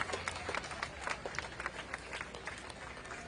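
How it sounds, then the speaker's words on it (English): A rally crowd claps in a sustained, fairly distant wash of applause, steady and even throughout, with no clear voices standing out. "let's give them a round of applause"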